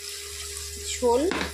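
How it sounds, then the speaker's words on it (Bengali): Water splashes into a pan of Bengali fish curry as a small amount is poured from a rinsed mustard paste jar, a short liquid gush over a steady background hum, briefly after a spoken word. "তো এখন দিয়ে দিব জল, সর্ষে বাটার জারটা ধুয়েই দিয়ে দেব অল্প পরিমাণে"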